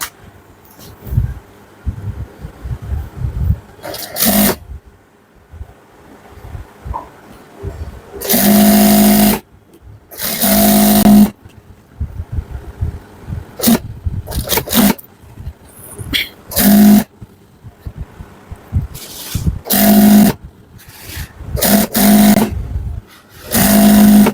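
A sewing machine stitches the side seams of a burqa in repeated loud bursts of whirring, separated by short pauses and quieter handling of fabric, with no talk over it.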